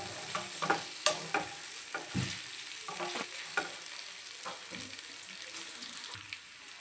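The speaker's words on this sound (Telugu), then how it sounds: "చక్కగా ఫ్రై చేసేసుకుందాము." Chicken liver fries in a pan, a soft crackling sizzle punctuated by frequent clacking stirs and scrapes of a spoon, close but fairly quiet, with no voices.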